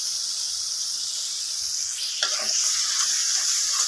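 Small fish curry with potato and eggplant simmering in a pot on a home stove, a steady close hiss and sizzle with faint stirring scrapes, no talking.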